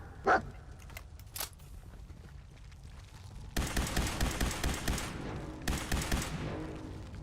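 Dogmeat, the dog companion in the Fallout 4 video game, lets out a few sharp barks over quiet game ambience, followed by a dense burst of rapid gunfire and combat noise.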